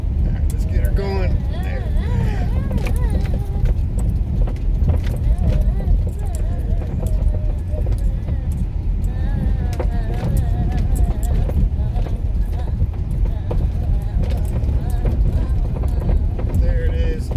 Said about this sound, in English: Do one more 360 donut before we get out of here.